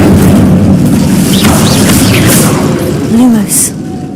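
A fiery burst from the Incendio spell in Hogwarts Legacy, a dense crackling whoosh with a boom-like swell that holds steady before tapering off, under a busy game soundscape.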